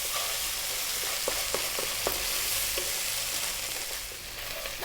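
Garlic ginger paste for a fish curry frying on high heat in a pan, a steady loud sizzle with a few sharp stirring clicks and scrapes, no voices.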